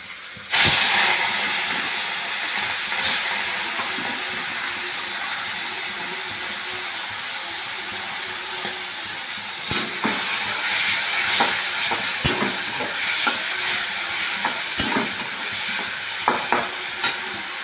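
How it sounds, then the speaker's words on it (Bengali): Shrimp go into hot oil in a wok and are sautéed with fig, giving a loud, steady sizzle and hiss that runs throughout, with scraping stir strokes and clinks rising toward the end. "এবার চিংড়ি মাছটা এই কড়াই ছেড়ে দেবো। যেহেতু চিংড়ি মাছটা কড়াই তেলটা গরম হয়ে গেছে"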